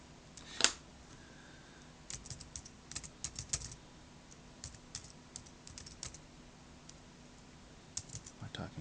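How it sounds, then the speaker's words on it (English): Rapid, irregular clicking of keys on a USB keyboard connected to a Samsung Galaxy S2 phone, in short bursts with pauses, close up and fairly quiet, after one sharper click near the start. "my typing is terrible."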